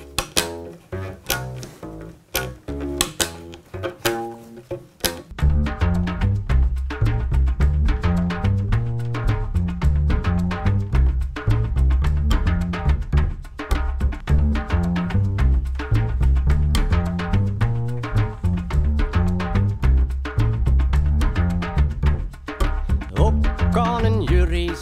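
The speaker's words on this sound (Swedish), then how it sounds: "Om man skulle göra en bas av en skida," Homemade four-string bass built from a ski, plucked notes starting sparse and then joined by full band backing with drums, loud and continuous.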